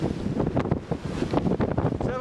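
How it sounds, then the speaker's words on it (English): Strong wind gust buffeting a sailboat at sea during a full winter storm, a continuous roar of wind noise across the microphone with rushing water and spray, loud and close throughout. "Another gust."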